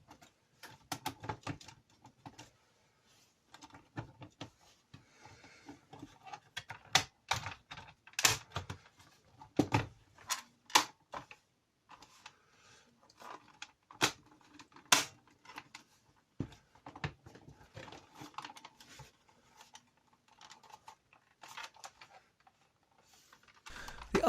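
Plastic upper and lower case halves of a Tandy 200 laptop are fitted and snapped together during a refurbishment, giving a long run of irregular, close, sharp clicks and taps with quiet gaps between them and no talk.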